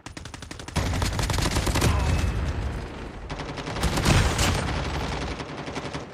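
Sustained automatic gunfire in the shooter game Call of Duty Mobile, loud and close, with dense rapid bursts running almost continuously and a brief pause partway through.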